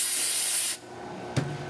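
Brake cleaner sprays onto the friction surface of a clutch during a clutch install on a 1994 Nissan 300ZX, a loud close hiss lasting under a second that cuts off sharply, then a single light knock.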